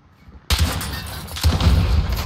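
Sudden burst of gunfire in Call of Duty Modern Warfare on the Crash map during hardcore team deathmatch, starting abruptly after near silence, with loud sustained shots and a second heavier volley shortly after.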